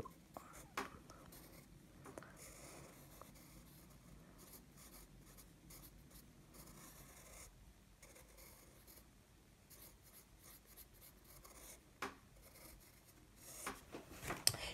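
Pencil scratching on paper while sketching a dinosaur head, a quiet, continuous soft scraping with brief louder strokes near the start and end, heard alone at low level.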